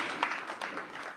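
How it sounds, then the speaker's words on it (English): Symposium audience applauding a panel on adolescent health in Zimbabwe: a soft, steady wash of many hands clapping, moderately distant, with a few sharper claps standing out. "Please give them a round of applause."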